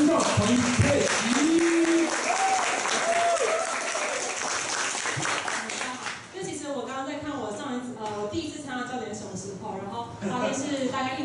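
A crowd at a self-introduction meetup in Taichung applauds for about six seconds, a bright, dense patter that gives way to someone talking over lingering room noise.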